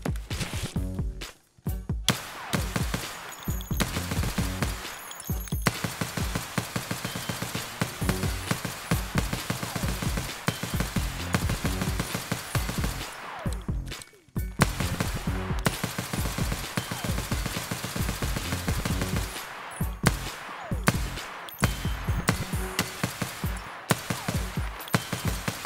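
Glock 17 pistol in 9x19 firing in the Escape from Tarkov game, with loud, rapid repeated shots in dense bursts separated by brief pauses.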